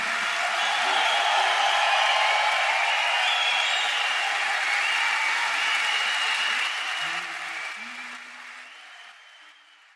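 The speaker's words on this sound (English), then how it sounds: "you normally would not hear applause like this for a classical music concert" Loud, sustained applause and crowd noise fill a classical music concert hall after a performance, holding steady for several seconds before gradually fading toward the end.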